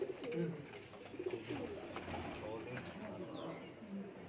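Lakha pigeons on a rooftop coo softly in low repeated murmurs against a hiss of outdoor noise, with a voice talking faintly in the background.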